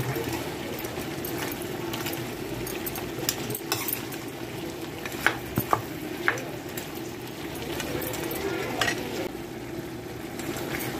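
Farm chicken fry being stirred in a pan with garam masala and cumin powder, a steady low cooking noise with soft scraping and a few light clinks of spoon on metal, no voices.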